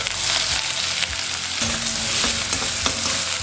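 Roughly chopped medium onion with cumin and a bay leaf frying on low flame for a green peas tarka gives a constant close sizzle, punctuated by a few sharp scrapes and taps of stirring.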